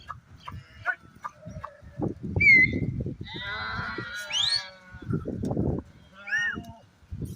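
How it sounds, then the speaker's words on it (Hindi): Goat kids carried in a bag during forest goat herding, giving a few high, wavering bleats among rustling and shuffling handling noise at close range, with short bursts between quieter gaps. "ये देखिए बकरी का बच्चा भी बैग में रखा हुआ है।"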